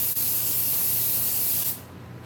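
Spray can spraying while mask fur is being made, a loud continuous hiss lasting nearly two seconds that then cuts off sharply, leaving a quieter room.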